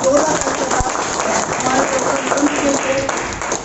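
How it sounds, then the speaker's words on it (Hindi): An audience at a seminar in Lucknow applauds for a doctor, giving a dense, steady wash of clapping from many hands with voices mixed in. "डॉक्टर साहब के लिए एक ताली हो"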